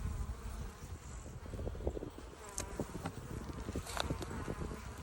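Honey bees from a full hive buzz in a dense, faint swarm drone during winter fondant feeding, with individual bees zipping close past at moments.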